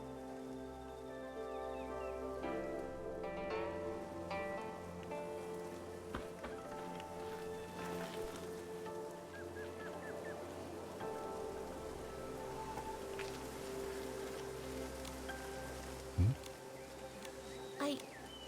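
Steady soft rain patters on a surface during a sudden rainstorm in Infinity Nikki, with faint insect-like buzzing and a few brief low thumps near the end.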